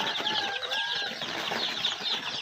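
Farm-bred village chickens cluck and flap in a pen, a dense, continuous flurry of wing beats and scratchy calls at moderate loudness throughout.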